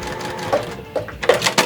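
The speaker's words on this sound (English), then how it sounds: "you're sewing down that 1/4 inch seam on the other side as well" A sewing machine runs a quarter-inch seam through layered quilt fabric, with short close bursts of mechanical stitching and brief pauses between them.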